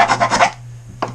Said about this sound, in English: I take a teeny bit of a rat tail file, and I loosen it up a little bit